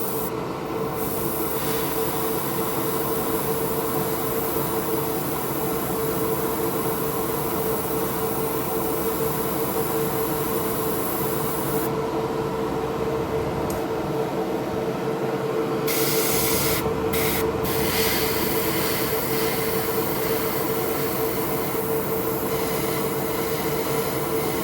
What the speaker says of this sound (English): I'm just putting a little dust coat on.